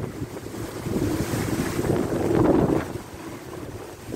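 Strong gusting wind buffets the microphone in a loud, steady roar that swells around the middle and eases off toward the end, with no voices.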